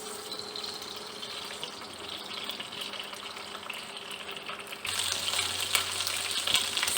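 Garlic paste frying in a pan for a corn and vegetable pulao, a steady close sizzle throughout that grows louder and denser partway through, with no talking.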